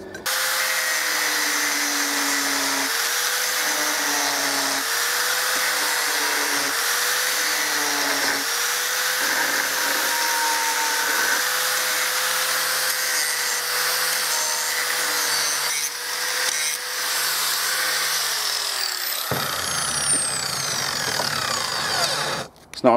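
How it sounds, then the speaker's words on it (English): An angle grinder whines loudly up close on a metal bracket, smoothing rough edges and rounding corners, its pitch dipping in repeated short passes before it winds down near the end. "I'm going to grind this down with the other angle grinder just to take the rough edges off and straighten that bit out and round the corners off"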